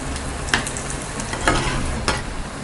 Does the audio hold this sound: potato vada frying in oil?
yes